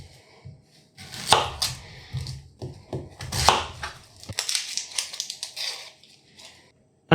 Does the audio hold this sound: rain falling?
no